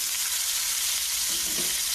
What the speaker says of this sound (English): see that sizzling?